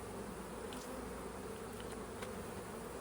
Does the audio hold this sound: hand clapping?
no